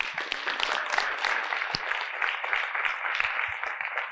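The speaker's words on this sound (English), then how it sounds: "can I have a round of applause for her" Audience applause at a Chicago talk, a moderate round of clapping from the crowd, steady and fairly close, lasting a few seconds.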